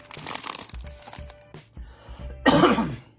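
A few harsh coughs and throat clearing up close, mixed with crinkling of plastic or paper, ending in a louder burst.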